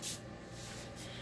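A single short burst of makeup setting spray from a pump bottle gives a soft, airy hiss that stays close and steady for about a second.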